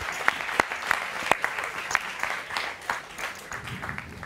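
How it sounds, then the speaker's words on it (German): Audience applause at a German poker show, a spread of sharp hand claps from a small studio crowd, strongest at the start and thinning slightly toward the end. "Wofür haben wir geklatscht? Und dann klatscht jetzt keiner!"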